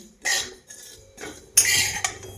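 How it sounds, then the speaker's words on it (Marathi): Poppy seeds dry-roast in a pan while being stirred, heard as bursts of close metallic scraping and clinking of utensil against the pan, separated by short quiet gaps. "आधी पहिल्यांदा ही खसखस भाजून घेते"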